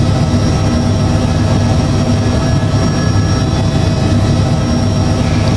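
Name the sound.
aircraft taking off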